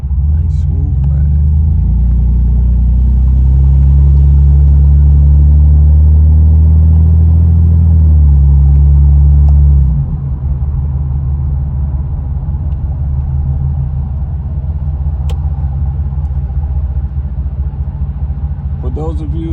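A G-body car cruising along, its engine giving a loud, steady low rumble that drops in pitch about halfway through, with road noise continuing and someone talking over it.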